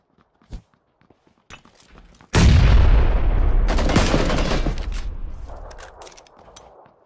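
In a first-person shooter match, a few faint footsteps lead into a sudden loud grenade blast with heavy rumbling gunfire that holds for several seconds and then slowly fades, with no talking heard.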